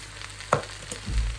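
Potatoes frying in a home pan give a steady, close sizzle, with a brief clatter of stirring partway through and no voices.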